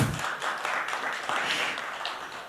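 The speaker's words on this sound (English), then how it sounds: "this world is able to jhelo Arvind Sabhani, big round of applause for him." Steady audience applause fills the whole stretch, a dense wash of many hands clapping at even loudness.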